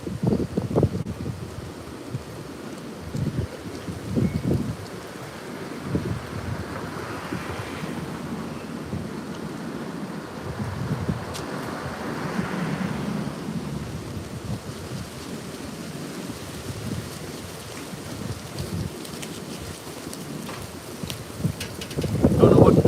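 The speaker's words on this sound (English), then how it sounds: "I bet you can hear that wind, right?" Wind gusts buffet the outdoors steadily for over twenty seconds, a rough continuous rumble swelling and easing in waves, loud and close as if striking the recording device.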